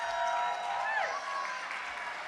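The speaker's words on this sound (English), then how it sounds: "Let's give them a big round of applause." Audience applause at a local film pitch event: dense, steady clapping from a crowd that fills the short moment, with a thin whistle or cheer riding over it.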